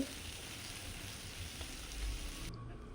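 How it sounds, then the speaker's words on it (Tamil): Crushed garlic and shallots sauté in a pan for murungakkai thokku, a soft continuous sizzle with fine crackle, quiet and steady, cutting off sharply near the end. "இந்த நம்ம இடித்து வச்ச பூண்டு சின்ன வெங்காயம் ரெண்டையும் சேர்த்து நல்லா வதக்கலாம்"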